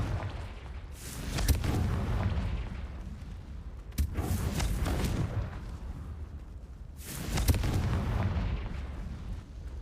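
Fire-spell explosions from a Harry Potter–style video game, cast as Confringo: three heavy booming bursts roughly three seconds apart, each a loud blast that trails into a rumbling tail, with no talking.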